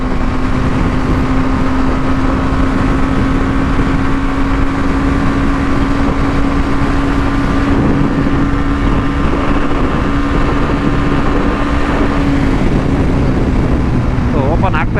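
A BMW G 310 GS motorcycle runs at top speed, its engine a steady, sustained drone with strong wind rush throughout, loud and continuous with a slight pitch shift near the end.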